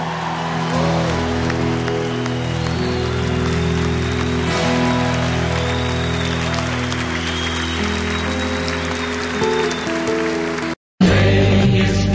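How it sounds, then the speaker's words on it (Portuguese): Congregation at a Catholic Mass applauding, a continuous broad roar of clapping that holds steady for most of the span under sustained low musical tones, cutting out briefly near the end. "Pode aplaudir o Senhor."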